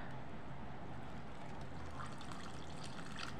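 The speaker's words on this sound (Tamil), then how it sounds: "கொஞ்சம் தண்ணி ஊற்றிக்கலாம்." Water trickles and pours steadily into batter with a soft, continuous liquid splashing close by.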